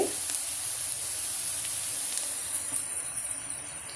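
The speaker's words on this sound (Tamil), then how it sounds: "ஆனியன் போட்டுட்டு நல்லா வதக்கிக்கோங்க" Onions sautéing for pav bhaji masala in a pan, a steady close sizzle and hiss with faint stirring scrapes, no voices.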